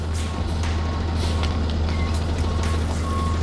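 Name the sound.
tow truck pulling in with reversing beeps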